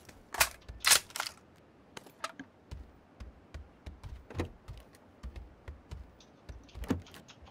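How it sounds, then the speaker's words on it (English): Gunfire in PlayerUnknown's Battlegrounds: faint, sharp cracks of shots. A couple of louder reports come early, followed by scattered quieter pops over a soft background. "I thought I hear shooting."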